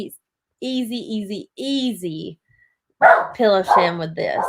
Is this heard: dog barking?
yes